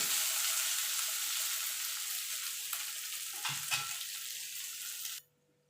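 Onions for a simple masoor dal with garlic fry with a steady, close sizzle in a pan, a couple of brief stirring knocks near the end before the sound cuts off abruptly.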